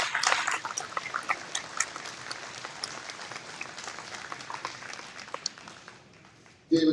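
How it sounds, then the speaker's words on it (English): Dense applause from a crowd at a rally against censorship, sustained clapping with scattered louder claps that thins and fades toward the end. "Big round of applause for Rose."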